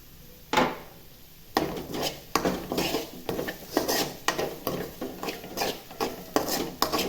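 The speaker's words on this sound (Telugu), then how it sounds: "ఇప్పుడు కొంచెం ధనియా పౌడర్ వేసుకొని కలుపుకుందామండి" Coriander powder is stirred into an egg masala curry in a pan, a spoon repeatedly scraping and knocking against the metal in an uneven rhythm of close, clattering strokes, with no speech.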